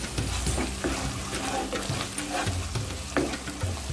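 Green chili being stirred into mushroom gravy in a hot pan, with a steady sizzle and frying crackle under scraping stirs, close and continuous.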